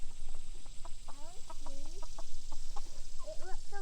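Young chick hatched a few weeks earlier, heard among farm fowl as a series of short clucks and soft chirping calls at close to moderate distance over a steady background hum, no talking.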